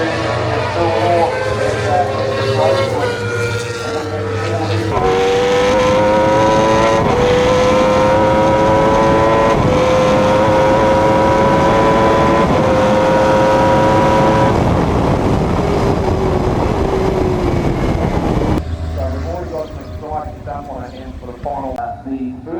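Superbike motorcycles racing at Levels Raceway in Timaru, engines screaming loud and close with rising and falling pitch as bikes pass and shift gears, under continuous race commentary.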